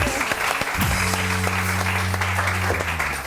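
A studio audience claps for a steady stretch of dense applause, close and even in volume, as a low tone hums beneath it.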